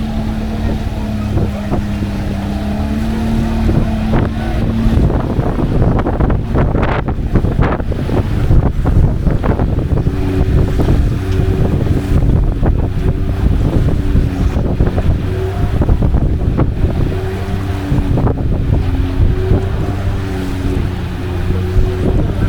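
A speedboat crossing from Georgetown to Vreed-en-Hoop in Guyana runs against the wind over choppy water, its steady engine drone mixed with loud wind buffeting and slapping waves throughout.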